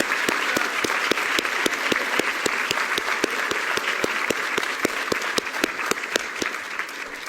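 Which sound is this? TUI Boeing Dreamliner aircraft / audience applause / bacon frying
audience applause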